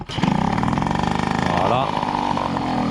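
A Peugeot 103 RCX moped engine catches right away and revs, a close, loud, rapid two-stroke buzz that rises in pitch and then settles into a steady run, with someone speaking over it.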